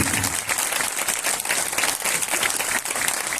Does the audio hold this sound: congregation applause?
yes